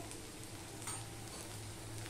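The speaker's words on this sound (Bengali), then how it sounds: "এইভাবে সমানে নাড়তে থাকো" Okra (bhindi) with salt frying in a pan of oil while being stirred, giving a soft, steady sizzle with faint scraping, heard alone without talk.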